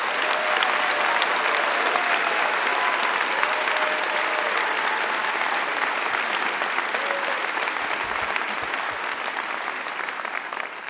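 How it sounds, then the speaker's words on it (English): An audience at a degree ceremony breaks into loud, sustained applause, a dense wash of clapping that holds steady for about ten seconds before slowly thinning, with a faint voice briefly audible beneath. "I think these people deserve a thunderous ovation."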